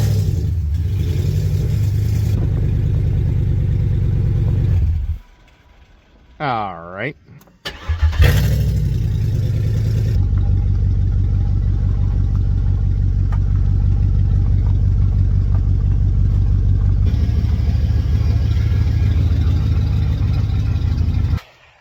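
A car engine cranks and catches in a garage, then settles into a steady, loud idle that runs on for many seconds, with a voice speaking briefly over it.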